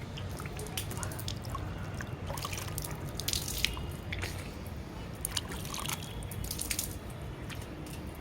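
Water splashes and drips as a face is rinsed after a face wash, soft irregular splatters and trickles close by, fairly quiet against a low background.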